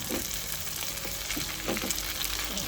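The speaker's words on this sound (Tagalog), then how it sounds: "lutuin na natin yung ating natirang mga lumpiang Shanghai" Leftover lumpiang Shanghai spring rolls fry in hot oil with a steady, close crackling sizzle and scattered pops throughout, with no voices.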